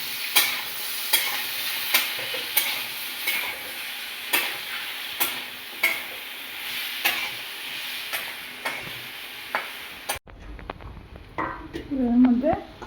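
Red amaranth leaves stir-frying in a pan with ginger-garlic paste, turmeric and salt, a steady close sizzle punctuated by regular scraping stirs, ending with a brief quieter stretch of softer frying.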